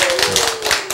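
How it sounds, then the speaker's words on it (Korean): A lecture audience claps hands in a quick, steady patter, close and fairly loud, over a brief moment with a faint sustained tone underneath. "박수 쳐야지 박수"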